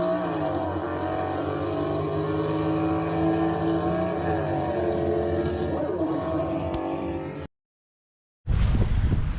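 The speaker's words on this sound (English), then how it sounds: "It's like an old Buick coming in." An old Buick convertible drones steadily as it arrives, a low, sustained engine hum heard at moderate distance, then a pause of silence before a sudden loud burst of engine noise.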